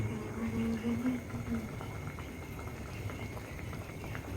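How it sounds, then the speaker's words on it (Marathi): A pot of jaggery water rolls at a steady boil, its dense bubbling and popping continuous and close throughout. "याला उकळी आली आहे चांगली"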